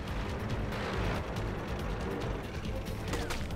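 Rapid bursts of gunfire and booming cannon shots in the tank game World of Tanks over a constant rumbling engine drone, dense and continuous throughout.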